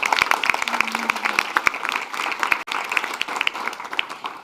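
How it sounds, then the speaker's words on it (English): Lively crowd applause for a speaker at a youth dialogue event on climate adaptation, many hands clapping in a thick steady patter with a few louder claps on top, easing slightly toward the end. "We have then a big applause for Desmond"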